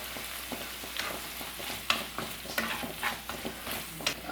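Chilli chicken rice being stirred in a frying pan, with repeated scraping strokes over a steady sizzle, fairly close and moderately loud, no talk.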